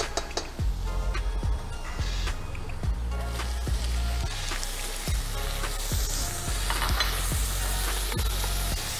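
Small shrimp frying with browned garlic in a hot pan, a dense close sizzle and crackle with regular scraping strokes of a utensil across the pan.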